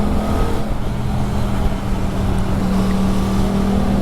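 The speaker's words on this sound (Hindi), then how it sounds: "ये मैंने थ्रोटल लिया, अब ये तेज़ उठ रही है" An Aprilia RS 457 motorcycle fitted with an IXIL SX1 aftermarket exhaust accelerates under throttle, a loud, steady engine drone rising slightly in pitch, recorded close with wind rush and no talking.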